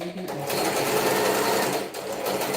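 A sewing machine runs continuously, a steady buzzing hum with rapid stitching texture, close and loud throughout with no pauses.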